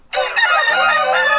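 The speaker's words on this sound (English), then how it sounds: "You know, the male chicken." A rooster in the video game Terrapuppercraft gives a single loud, close cock-a-doodle-doo crow that lasts just over a second, alone with no talking.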